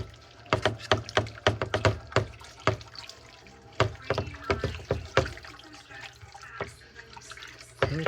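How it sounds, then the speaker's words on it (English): A whisk stirs broth in a bowl for homemade tamale dough, making a rapid series of wet sloshing and tapping strokes up close that slow and fade after a few seconds. "I'm going to whisk it together real quick."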